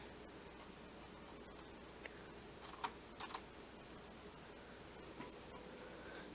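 Faint keystrokes on a computer keyboard, a few light taps spread across a quiet hiss while a word is typed into a level editor.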